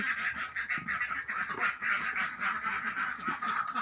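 A flock of egg-laying farm ducks quacking continuously, dense overlapping calls close by with no pauses.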